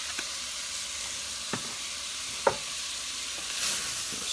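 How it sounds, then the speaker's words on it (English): Kielbasa and black beans being stirred in a pan: a steady close sizzle of frying with a few sharp scrapes and clicks of a utensil against the pan, no voices. "Stir this up."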